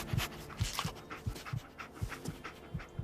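Dogmeat, the canine companion in Fallout 4, pants in quick rhythmic breaths close by, a steady run of short huffs over the game's quiet ambient background.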